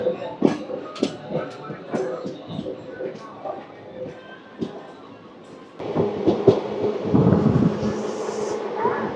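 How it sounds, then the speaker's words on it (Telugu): A goods train hauled by a WAP-9 electric locomotive sits stopped at a station near Rajahmundry, its low rumbling and clanking swelling louder in the second half, with occasional voices in the background. "వ్యాప్ 9 లోకోతో గూడ్స్ ట్రైన్ అయితే ఆగింది ఇక్కడ."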